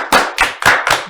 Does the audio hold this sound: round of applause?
yes